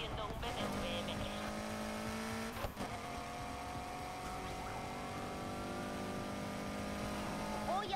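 A BMW M3 being chased in the racing game Need for Speed Heat, its engine droning steadily with shifting revving tones, with speech over it most of the time.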